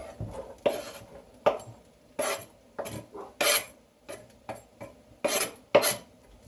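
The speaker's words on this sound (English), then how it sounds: "Put my onion in right now." Onion pieces are tipped into a pan already holding zucchini for lemon zucchini rice, giving a series of close clattering knocks and scrapes of utensil on pan, repeated in bursts every half second or so, with no talk.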